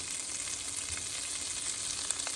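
Curry paste sizzles in a hot pan during a coconut and shrimp curry recipe, with a steady, fairly faint crackle running through the whole short stretch and no voices.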